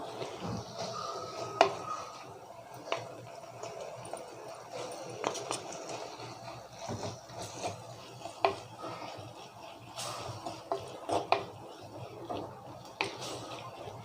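Spinach greens and grated coconut are stirred in a pan, giving soft scraping and light metallic clinks of a spoon against the pan, intermittent and fairly quiet over a faint background hiss.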